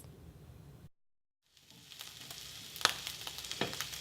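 Grass-fed beef fries in a pan with a soft, sputtering sizzle. The sizzle cuts out for a moment, then returns and grows busier, with a few sharper pops near the end and no talking.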